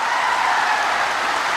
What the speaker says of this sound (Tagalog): Bakit para lakas ng palakpak pero ilan lang?